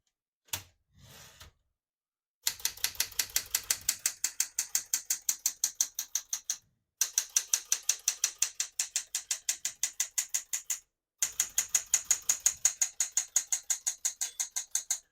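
A 1969 Smith-Corona Classic 12 portable manual typewriter being typed on, with rapid, regular key strikes clattering in three long bursts separated by short pauses, close and crisp with no talking.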